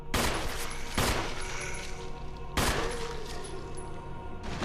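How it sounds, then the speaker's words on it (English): Gunfire in the Resident Evil Remaster video game as shots hit an enemy lying on the ground: three or four loud, sharp blasts at uneven intervals over a steady background of game sound. "Can you shoot him while he's on the ground?"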